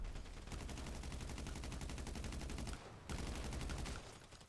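Rapid automatic gunfire in GTA 5 Online, a dense, steady stream of shots that runs almost continuously, breaks briefly for a moment, then resumes, faint and distant in the mix.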